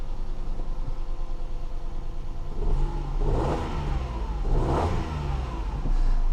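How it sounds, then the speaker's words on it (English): Peugeot 108 three-cylinder engine running at a rough, unbalanced idle, close by, a steady low throb that swells slightly twice as the engine note rises and settles. "These 3 cylinders, they always feel a little bit at a rough idle because it's not balanced"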